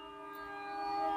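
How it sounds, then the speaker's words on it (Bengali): Long sustained horn of a passing train in the background, a steady tonal blare that swells slightly louder through a short stretch. "ট্রেনের আওয়াজ"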